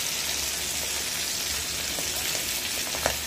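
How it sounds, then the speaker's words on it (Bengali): Hilsa fish frying in oil in a pan, a steady close crackling sizzle that runs without a break, with a few sharper pops toward the end. "মাছ দিয়ে হালকা ভাজবো"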